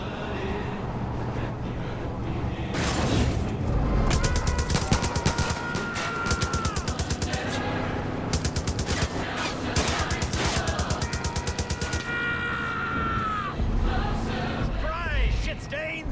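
A mounted machine gun in Far Cry 5 fires long rapid bursts, loud and close, with brief pauses between volleys over a constant rumbling game backdrop and occasional voices.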